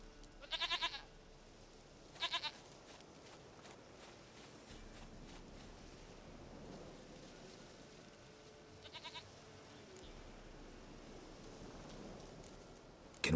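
In Witcher 3, a goat lets out short, quiet bleats at intervals, three brief calls spread across a soft ambient game background with faint rustling steps between them.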